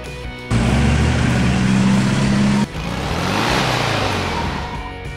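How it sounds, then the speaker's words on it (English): Close, loud engine drone from a delivery truck, held steady for about two seconds, then easing into a softer rumble as it moves off. "Delivery truck."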